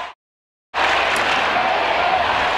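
Stadium crowd at an Australian football match applauding a long goal kick, with steady, loud, sustained clapping and crowd noise after a brief silence.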